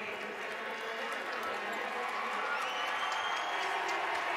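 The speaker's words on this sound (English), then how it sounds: "she gets cheers from the crowd" Crowd cheering and applause fill an arena at an SEC women's basketball tournament semifinal between South Carolina and Tennessee, a steady, dense roar that holds for several seconds without pause.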